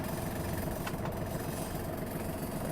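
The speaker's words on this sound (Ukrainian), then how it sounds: "І дамо двигуну трохи прогрітись" A Kubota GL-260 Japanese mini tractor engine idles while warming up, a steady low diesel rumble with even pulsing, continuous and unchanging with no voices.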